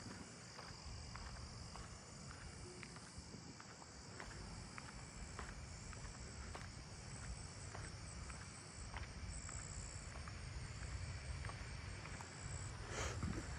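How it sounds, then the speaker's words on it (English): A faint, steady high-pitched trill of a tree cricket at night in a backyard neighbourhood, continuous and distant, with soft footsteps and rustling below it. "Oh, I'm approaching a tree cricket down here,"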